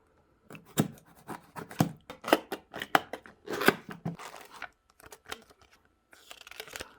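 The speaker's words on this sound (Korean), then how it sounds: "자 언박싱 하겠습니다." A wireless car charger mount package, a vent-clip holder, is unboxed up close with bursts of crinkling, tearing and rustling packaging between short pauses, ending in a rougher scrape.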